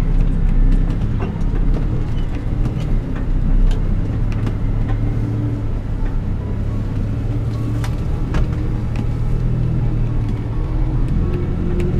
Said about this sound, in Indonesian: Aduh, knalpot gue berisik banget.